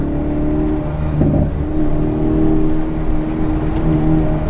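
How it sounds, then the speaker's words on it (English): Car accelerating in second gear on a tight, wet autocross course, with a steady, loud engine drone and a brief rougher surge early on that may be the tires spinning. "We got some wheel spinner."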